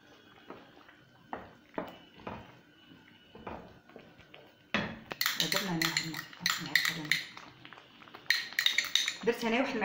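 A spoon scrapes and clinks against a bowl while a spice mixture of ginger, hot paprika, pepper and tomato paste is stirred, quiet taps at first, then a louder run of rapid metallic clinks and scrapes up close.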